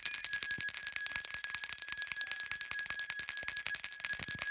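Handbells ring continuously at a Salvation Army red kettle kickoff in King County, a bright steady jangling of several bells close by and fairly loud, with no talking.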